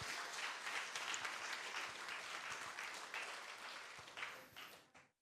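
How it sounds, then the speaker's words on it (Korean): A church congregation claps together during a Sunday worship service at a family restoration festival, dense, sustained applause that swells early and then fades away to silence. "주님께 영광의 박수 올려드리겠습니다."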